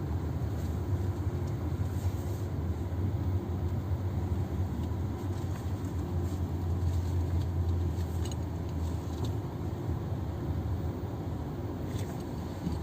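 A Nissan Kicks reversing into a parking spot gives a steady low engine and road hum from inside the cabin, even and unbroken throughout, with no talk.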